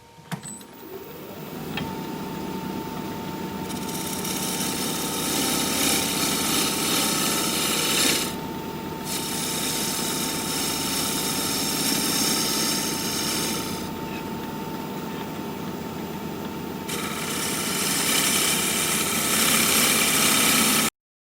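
A 5/8 inch bowl gouge cuts a cracked wooden bowl on a lathe, giving a steady, loud, continuous whirring scrape with a faint tone that rises and falls as the cut eases and presses in again, with no speech.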